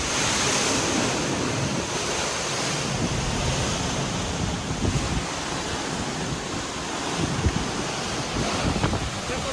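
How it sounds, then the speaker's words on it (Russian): Atlantic surf breaking on the rugged volcanic coast of Lanzarote in the Canary Islands, a loud continuous roar of waves with heavy wind buffeting the microphone and no voices. "Мощь и сила океана."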